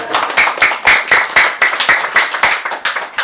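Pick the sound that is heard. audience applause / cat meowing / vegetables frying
audience applause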